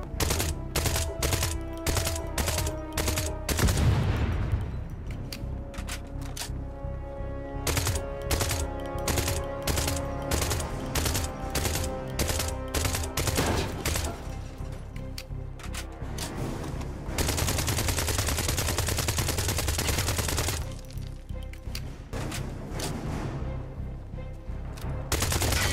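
Repeated gunshots and fully automatic bursts in Hitman 2 (2018), loud and close, coming in uneven volleys with short gaps, including one long sustained stretch of fire.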